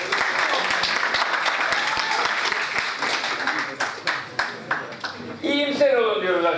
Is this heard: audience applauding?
yes